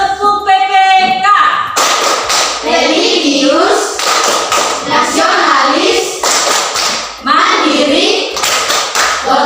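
Group clapping chant in a classroom gathering, rhythmic bursts of claps alternating with voices shouting chant words in unison, loud and close, with children's voices throughout.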